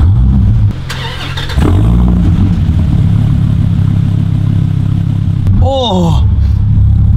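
A Dodge Viper ACR Extreme's 740 hp V10 cranks and fires, settling into a loud, rumbling idle close by, then blips into a sharp rev. A person exclaims over the engine.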